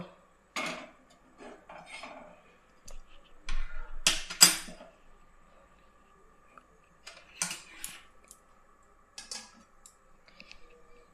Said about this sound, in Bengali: আবার চাটুটা বসিয়ে দিচ্ছি ফুল গরম হওয়ার জন্য